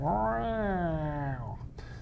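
A person imitates a cat, giving one long drawn-out meow that rises and then falls in pitch, voiced close and fairly loud before trailing off.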